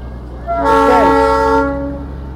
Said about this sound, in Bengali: এই ট্রেনটা এরকম ঘুরে গিয়ে,